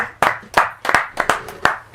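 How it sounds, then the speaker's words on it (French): A few people applaud a rapper on a studio show, with sparse, distinct handclaps arriving in an uneven rhythm, close and fairly loud, about seven claps in two seconds. "applaudissements s'il vous plaît"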